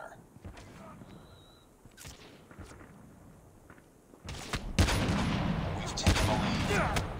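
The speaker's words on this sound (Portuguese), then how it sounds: "Quem é esse otário que tá atirando em mim?" Gunfire in Call of Duty Mobile: quiet scattered shots and clicks at first, then a louder stretch of rapid automatic fire with booming impacts near the end.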